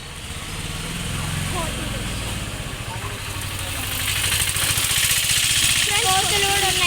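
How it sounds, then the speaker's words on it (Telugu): An auto-rickshaw engine putters along a road, a steady mid-pitched drone that grows louder toward the end, heard close beside voices. "ఫ్రెండ్స్ తొందర వెళ్ళు, ఆటో వస్తుంది."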